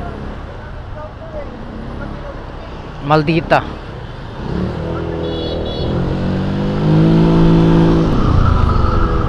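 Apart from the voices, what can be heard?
road traffic noise in the evening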